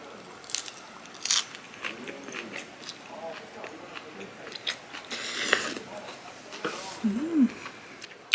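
Crunchy salad with vegetables and oriental dressing being eaten up close, with intermittent crisp bites and soft chewing crunches scattered across the clip, plus faint murmured vocal sounds.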